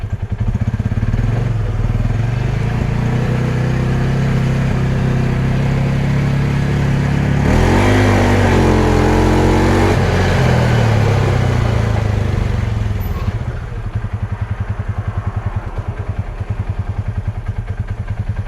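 A vehicle engine with a suspected fuel pressure problem: a loud, close, continuous running roar that rises and wavers in pitch midway, then settles to a rougher, uneven idle, with no talk.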